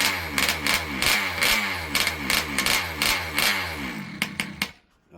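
An ALX 71cc engine warms up and struggles to idle, its loud uneven chugging beat pulsing steadily with sharp ticks, then stumbling and dying out near the end.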